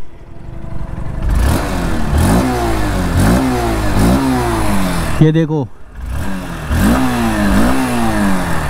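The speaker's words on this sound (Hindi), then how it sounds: "पहले ना आपको इसका इंजन और एग्जॉस्ट का साउंड सुना देता हूँ, क्योंकि इंजन इसका थोड़ा सा गर्म भी हो चुका है।" A warmed-up air-cooled motorcycle engine revs repeatedly through its exhaust, rising and falling in roughly one-second pulses, loud and close, with someone speaking briefly over it.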